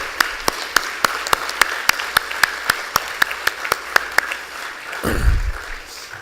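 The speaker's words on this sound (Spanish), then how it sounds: "Un aplauso, por favor" An audience at an education governance conference session claps in a steady, rhythmic round of distinct claps for about five seconds, ending in a brief low thump of handling noise.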